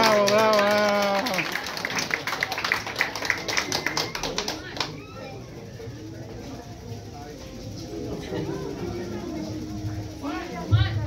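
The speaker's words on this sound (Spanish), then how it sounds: "fuerte aplauso para todos ellos" Applause at a family gathering of Quiotepec townspeople in Minnesota, a burst of hand clapping at the start that thins into scattered claps while people talk over it.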